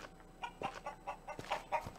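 Chickens cluck in a gladiator school video game, several soft short clucks and squawks coming in irregular bursts, faint against quiet background.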